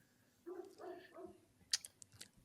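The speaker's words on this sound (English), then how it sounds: "I can hear your dog barking there, Jordan." A dog barks somewhere in the background of a call, giving a few short muffled barks followed by faint higher sounds, all fairly distant and low in level.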